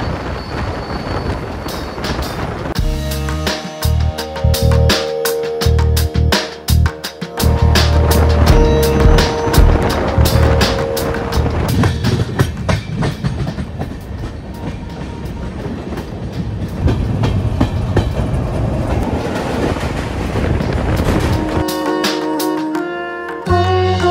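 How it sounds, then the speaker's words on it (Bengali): The 15625 Deoghar–Agartala Weekly Express passes close by, a loud, steady roar of wheels with dense clickety-clack rhythm and a long horn-like tone, sustained for the full stretch before easing off near the end. "এক্ষুনি আমাদের একটা ট্রেন ক্রস করতে চলেছে 15625 দেওঘর আগরতলা উইকলি এক্সপ্রেস"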